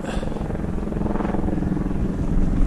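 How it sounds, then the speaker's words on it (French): A steady, rumbling mechanical drone with a rhythmic low chop, like a helicopter flying nearby, holding constant and growing slightly louder toward the end. "Hélicoptère."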